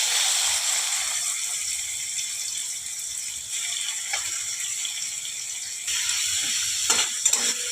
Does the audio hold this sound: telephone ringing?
no